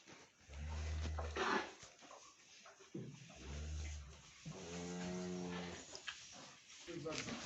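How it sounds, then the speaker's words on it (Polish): Low, drawn-out cow moos sound repeatedly at close range, a few long calls separated by short pauses with some rustling between them. "Teraz pije ta krowa."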